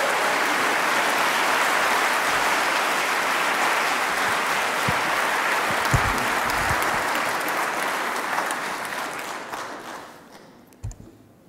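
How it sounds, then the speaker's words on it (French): Sustained audience applause greets Jean-Yves Le Gallou at a colloquium, a dense wash of many hands clapping that holds steady, then thins and fades out over the last couple of seconds. "merci d'applaudir"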